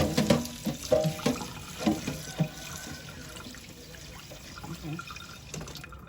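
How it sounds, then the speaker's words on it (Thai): Red ant eggs are rinsed by hand in water, with repeated splashes and sloshing in uneven bursts, close and fairly soft, fading to quieter trickling toward the end. "ล้างทำความสะอาดไข่มดแดงให้ดีนะคะ"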